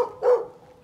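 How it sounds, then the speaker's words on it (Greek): A dog gives one short, fairly close bark on a residential street in Kavala, Greece, then the air settles back to a quiet background hum. "Ωραίος σκυλαράκος."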